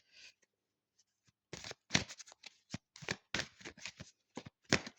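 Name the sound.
drawing a card from an oracle card deck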